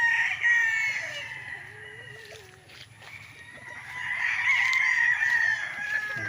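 Roosters crow repeatedly on a fenced farm lot in Pagsanjan, Laguna, with clucking chickens between the calls, the crowing fairly close and standing out over quiet rural background.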